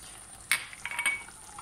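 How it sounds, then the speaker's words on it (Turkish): Flour being stirred into a sauce in a pan, with a few brief scraping and clinking strokes over a faint sizzle, fairly quiet and without speech. "Karıştıralım."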